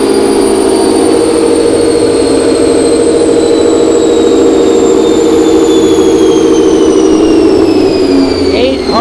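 A 2015 Ford Mustang GT with a Whipple supercharger screaming at high RPM on a dyno, a loud sustained engine roar topped by a piercing, slowly falling supercharger whine.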